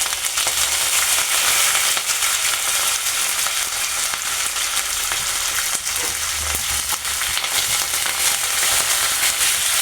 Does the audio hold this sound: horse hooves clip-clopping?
no